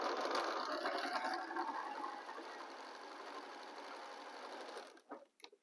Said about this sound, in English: Remove here the pin and continue sewing.